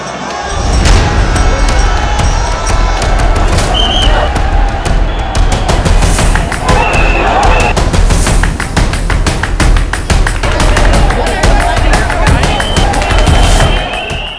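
A huge crowd of pilgrims mills around Ram Mandir in Ayodhya, a loud, steady wash of babble and shuffling with scattered taps and knocks throughout, unbroken from start to finish.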